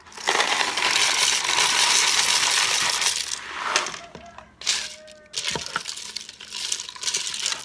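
Dry jumbo elbow noodles poured into a pressure cooker, a dense rattling cascade of hard pasta hitting metal, then a few scattered clinks and a second shorter pour, close and loud.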